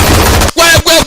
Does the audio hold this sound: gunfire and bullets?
yes